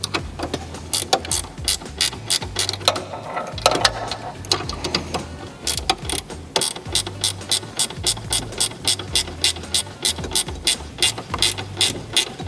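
A ratchet spanner clicks rapidly and steadily as it tightens an M6 nylock nut securing relays during a spotlight wiring install, with bursts of close, sharp pawl ticks separated by brief pauses for repositioning.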